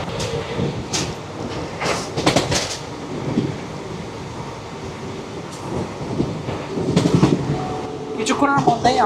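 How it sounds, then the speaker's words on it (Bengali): The Netaji Express on its Howrah to Kalka run rumbles along with a continuous rattle and scattered clanks and squeals, heard from inside the carriage, with voices talking nearby over the noise. "এই ট্রেনে করেই আমরা লাস্ট স্টপে যাব কালকা"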